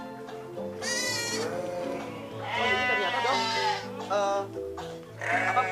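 Garut sheep bleat repeatedly on a farm, several loud close calls rising over a person talking, with background music running throughout.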